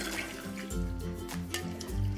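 Cold water pouring from a tap over freshly wilted spinach leaves in a home kitchen, a steady close splashing rush of liquid lasting a couple of seconds with no talk.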